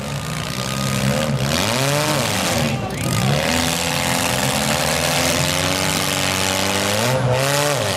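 Demolition derby cars at a Mini smash event rev their engines hard in a loud, sustained roar, with pitch climbing and falling in waves as they are wound up near the end of the run.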